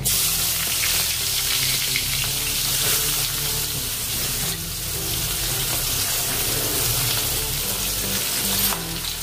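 A bay leaf and cumin sizzle steadily in hot oil in a pan, a continuous close, bright frying hiss for Gujarati sev curry, with no talking.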